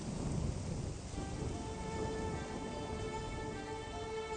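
Steady rain pours down with a dense, hissing wash throughout, no voices over it, and a faint low rumble underneath.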